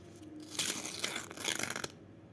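A chocolate bar's wrapper is gently torn and peeled open, giving a close, crisp burst of crinkling and tearing that lasts about a second and a half within a quiet ASMR setting.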